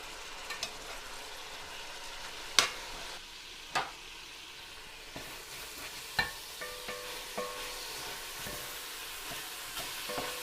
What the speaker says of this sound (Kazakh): Етіміз жақсылап тұрып қуырылды